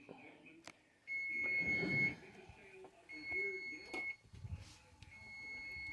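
A kitchen oven timer beeps in a series of thin, steady electronic tones while someone talks nearby as pumpkin skins bake in the oven.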